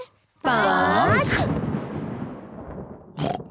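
Cartoon thunder from a passing storm: a loud crack with a long rumbling tail that fades out, then a brief second burst, with a voice heard over the start.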